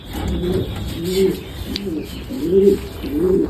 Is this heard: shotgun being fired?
no